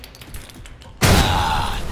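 Fireworks explosion blowing up a truck's gas tank in the video game Alpha Protocol: after a second of quiet ambience, a sudden loud blast bursts in and rolls on as a sustained, roaring crackle.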